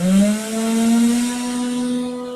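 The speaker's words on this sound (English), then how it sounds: "we sand the edges after" A power tool sanding the edges of a laser-cut box gives a steady, loud motor whine with a slight rise in pitch, continuous and near.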